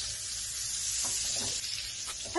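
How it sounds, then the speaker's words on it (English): A fish fillet sizzling in a hot pan, a bright, steady hiss with faint crackles and a soft scrape near the end, close and continuous. "Our fish has been cooking about 2 minutes on the top side."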